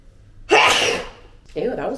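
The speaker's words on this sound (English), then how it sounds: "Ew, that was an ugly sneeze." A single loud, sharp sneeze bursts out up close, followed moments later by a brief vocal sound.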